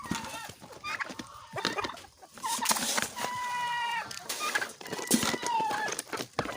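Free-range brown Dekalb chickens clucking outside their coop, repeated close clucks and short calls from several birds, with a person talking now and then in between.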